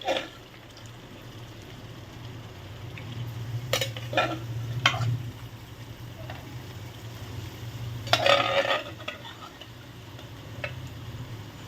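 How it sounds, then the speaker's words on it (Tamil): Boiled mutton pieces sautéed in a pan with tomato, ginger and garlic, a low steady sizzle broken by several sharp scraping stirs and clacks of a spoon against the pan. "போட்டு அது கூடவே மட்டனையும் நல்லா ஒரு வதக்கு வதக்குவோம்"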